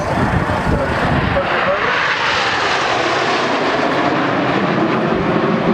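Aerobatic jets fly in formation at the Southport airshow, a loud continuous engine roar that stays strong across the whole stretch while a commentator talks over it.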